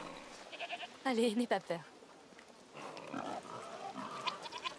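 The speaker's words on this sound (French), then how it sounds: "Così contento di vedere delle capre?" A goat bleats a few close, wavering calls in the video game A Plague Tale: Requiem, between spoken dialogue.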